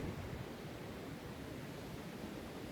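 Ocean waves wash onto the shore in a steady, broad hiss of surf, fairly faint and unbroken for the whole stretch, with no voices over it.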